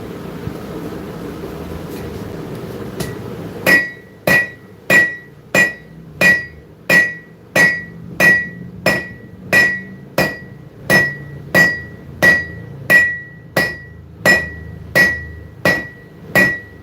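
A hammer rings against a 170 pound anvil on a 45 pound base during forging, about twenty sharp metallic strikes in a steady, evenly spaced rhythm, loud and close after a quiet start.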